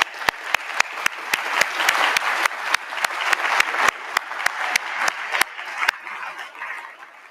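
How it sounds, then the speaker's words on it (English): An audience applauds student shadow theatre performers from Calderdale College at a community event, sustained close clapping with several loud, sharp claps standing out, fading slightly toward the end. "I think we should give them another round of applause"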